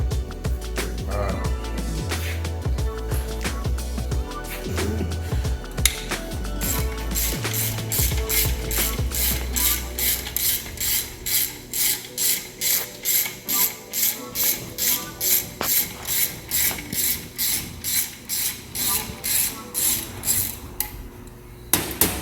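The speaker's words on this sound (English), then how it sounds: "I'm screwing the bolt for the timing chain guide" Ratchet wrench tightening a timing chain guide bolt on a BMW 1 Series engine, with metallic clanks and handling noise at first, then a long run of rapid, evenly spaced clicks up close.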